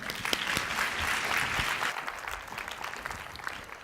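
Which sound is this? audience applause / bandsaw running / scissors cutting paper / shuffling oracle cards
audience applause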